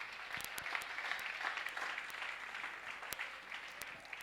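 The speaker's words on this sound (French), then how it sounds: "Tu as raison d'acclamer." Church congregation applauding during a French-language service, a sustained wash of clapping with scattered sharp individual claps standing out, fairly distant and even in level.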